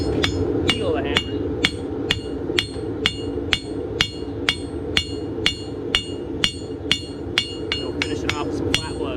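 Farrier finishing a horseshoe clip with flat hammer blows while shoeing a 17.1 hand Dutch Warmblood eventing horse: a steady run of about twenty sharp metallic strikes, evenly spaced and close, over a constant low background hum.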